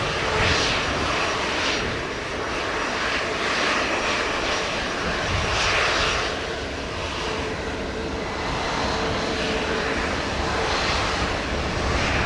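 An airliner rolls for takeoff on runway 07 at Montego Bay, Jamaica, its engines roaring steadily at a distance with a broad, swelling rumble that rises and eases in waves.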